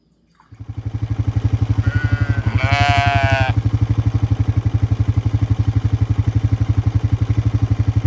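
On a farm, a sheep gives a loud, close bleat over a strong, rapid mechanical rumble that keeps going through the whole stretch.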